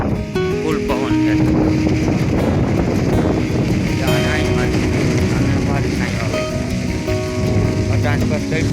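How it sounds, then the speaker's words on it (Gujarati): Strong wind roars outdoors in a steady, dense gust noise that continues throughout, with voices talking underneath. "પવન બહુ છે ફૂલ પવન છે"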